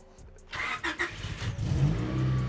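A Honda Civic engine turning over and settling into a steady idle close by, with a few quick rises in pitch before it holds a constant hum.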